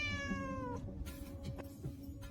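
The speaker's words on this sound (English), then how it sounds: "Get that cat out of here this instant." A cat gives a single drawn-out meow, then quieter rustling and faint background sounds follow.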